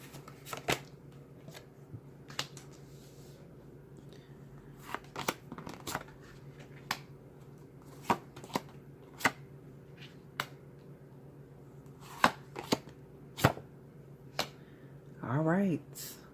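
Tarot cards are shuffled and snapped in quick, irregular bursts of crisp taps and riffles at close range, quiet overall, with a longer riffle near the end.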